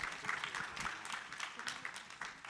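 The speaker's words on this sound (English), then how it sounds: "let's give her another round of applause" An audience applauds someone speaker at a panel on the future of work for Black workers, giving a faint, steady patter of clapping from a distant crowd with no voices over it.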